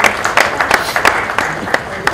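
An audience at a song launch applauds in a loose, uneven patter to welcome a singer, with a voice talking over the clapping.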